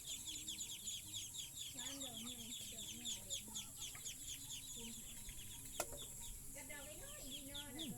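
Chickens cluck repeatedly at close to moderate distance in a rural farmyard, with overlapping soft calls and a steady insect-like background.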